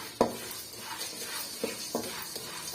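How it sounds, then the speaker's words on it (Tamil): Pepper spices dry-roasting in a pan over a medium flame, with faint steady crackle and a few sharp scraping stir clicks, close and alone. "மிதமான தீயில வச்சு நம்ம வறுத்து எடுத்துக்கலாம்"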